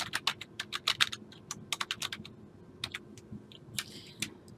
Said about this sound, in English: type in your full legal name